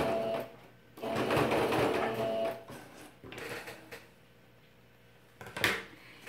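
A sewing machine backstitches at the end of a seam, with short bursts of mechanical whirring and clatter separated by brief pauses, fairly quiet and close.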